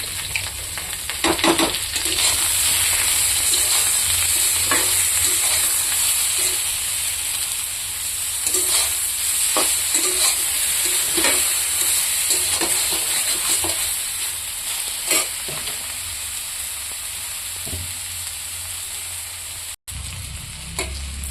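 Eggplant slices fry in hot oil, seasoned with salt and turmeric, giving a steady close sizzle and hiss with occasional crackles and stirring scrapes, no talking.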